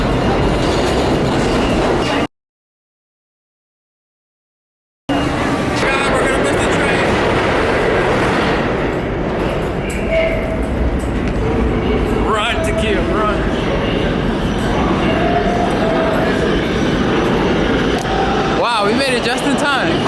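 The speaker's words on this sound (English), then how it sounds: "Oh wait, this is a 6 train." A New York City subway 6 train running, with loud rumbling and clattering wheels, metallic squeals and rattles. Two seconds drop out to silence early on, and people talk over the noise.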